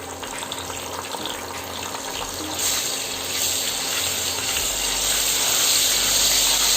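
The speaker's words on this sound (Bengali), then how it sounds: "আমি কাঁচা গন্ধ যাওয়া পর্যন্ত 2-3 মিনিট এই তেলের মধ্যে আদা রসুনটা ভেজে নেব।" Ginger garlic paste frying in oil for a pangas fish curry, a broad hissing sizzle that swells louder partway through and stays steady, close up.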